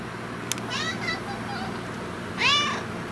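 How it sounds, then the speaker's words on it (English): A cat gives two short, high meows a couple of seconds apart, close by against quiet room noise. "Meow. Meow."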